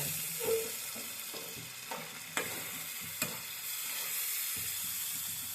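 Curry fries in a pan with yogurt added, a soft steady sizzle under occasional stirring scrapes and a few light knocks, with no talking.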